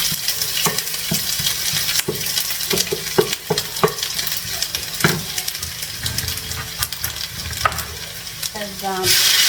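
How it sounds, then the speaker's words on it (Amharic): Onions sautéing in oil in a pan for tomato sauce, a steady loud sizzle broken by scraping stirs and utensil knocks against the pan, close by. "እዚህ ጋር ዘይት ጨምራለሁ። ሽንኩርት ያቁላላው ነው ለቲማቲም ሶስ የሚሆነው።"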